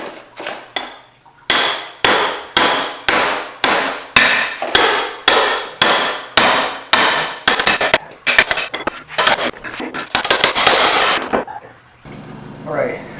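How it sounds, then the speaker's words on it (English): A big heavy hammer pounding on a lubricated BMW E30 M3 control arm bushing, more than a dozen loud, evenly paced metallic blows, then a quicker flurry of strikes, close and alone. "So this technique involves some sort of lubricant and a big heavy hammer."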